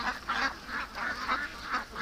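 Ducks being herded into a pen give a quick run of rhythmic, nasal quacks, about seven bursts in close succession from a flock nearby, with no voices.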